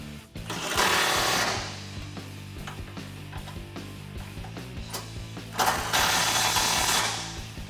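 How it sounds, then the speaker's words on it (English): A socket wrench with an 18mm socket tightens bolts on a Barricade Extreme HD rear bumper for a 2019 RAM 1500, giving two loud bursts of whirring mechanical rattle with quieter clicking between them over a steady tonal hum. "grab your 18mm socket and tighten them down."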